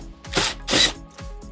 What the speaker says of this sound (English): we can go ahead and drill our holes